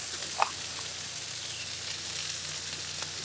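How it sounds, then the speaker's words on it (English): Peppers and other vegetables frying on a Blackstone griddle give a steady, quiet, even sizzle, with one brief louder tap early on and no voices. "this right here is just our peppers, our vegetables. Okay, we're gonna fry those up"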